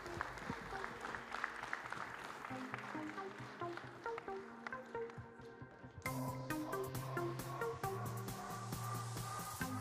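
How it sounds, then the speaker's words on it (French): An audience at a Limousin cattle auction claps, and the applause builds into a fuller burst partway through. A voice speaks over it, and there is a tonal background. "on les applaudit bien fort"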